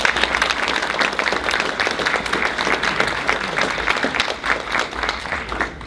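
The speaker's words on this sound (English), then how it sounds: "So give yourself a round of applause for that." Audience at a diversity summit keynote breaks into steady, dense applause that fills the room at close range, with clapping sustained evenly throughout and no voices rising above it.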